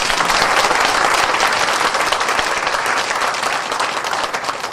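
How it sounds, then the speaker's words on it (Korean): An audience at a lecture about Everest gives loud, dense applause that starts strong and gradually tapers off toward the end. "한 번 더 감사의 뜻으로 큰 박수 주시기 바랍니다."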